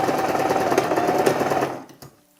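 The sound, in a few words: sewing machine stitching a kaftan dress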